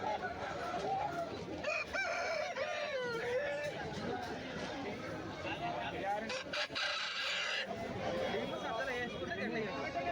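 Aseel fighting roosters crow at a market stall, with a cock-a-doodle-doo and clucking fowl heard under continuous nearby talk and chatter.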